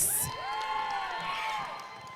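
A robotics team crowd at a championship event cheers briefly, a short burst of shouts and whoops that fades under a tonal whistle-like sound, fairly faint and distant.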